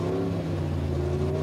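Pro Stock drag racing car, a Chevy Beretta at Calder Park Raceway in Australia, idling with a steady low engine burble and harmonic hum, heard at moderate distance without speech.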